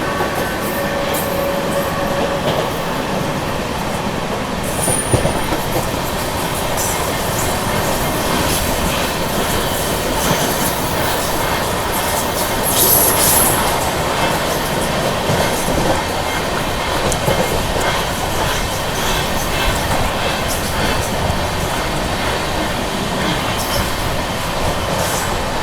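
Deccan Queen express train running alongside and overtaking a Mumbai local train: a loud, continuous roar of wheels on rails with clickety-clack and occasional squeals, heard from inside the moving coach.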